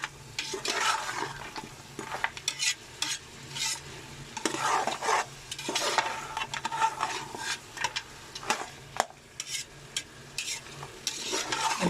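Meat frying with garlic and ginger for Pakistani salted meat, a steady sizzle broken by repeated stirring scrapes and clatters close by, with no talking.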